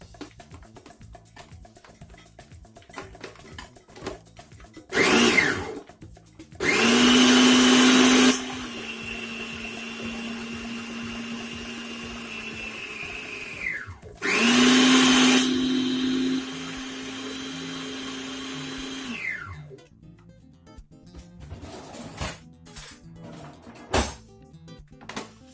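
A food processor chops vegetables for a paella base in two separate pulses, each a loud motor whir that starts with a sharp jump, settles into a steady hum and then winds down, with quiet kitchen handling between.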